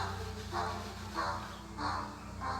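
A crow caws four times at a steady, evenly spaced rhythm, loud and close, over a low constant background hum, illustrating the fox and crow fable.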